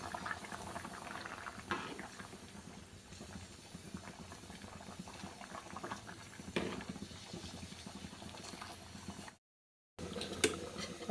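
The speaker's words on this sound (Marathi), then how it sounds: "भाजीला आपल्या छानपैकी उकळी आलेली आहे" A pot of vegetable curry at a rolling boil, continuous soft bubbling and popping close by, briefly cutting to silence near the end before resuming, no talk.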